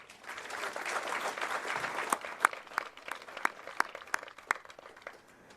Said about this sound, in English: round of applause for Shantea